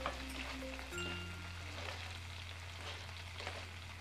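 Fish frying in hot oil gets flipped in the pan, a soft continuous sizzle with faint crackles over a low steady hum, quiet and without talking.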